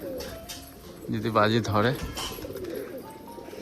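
A caged pigeon gives a short, soft throaty coo under a person talking nearby.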